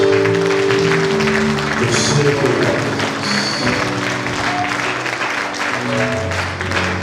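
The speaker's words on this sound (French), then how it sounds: "Nous appelons ta présence encore une fois de plus par une tonnerre d'acclamation." A church congregation applauding and cheering in acclamation during a worship service, dense continuous clapping with a voice speaking and singing over it.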